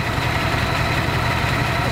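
A car engine fitted with Vortec fuel injectors idles while running rich, a steady, dense rumble held at an even level throughout with no pauses and no voices.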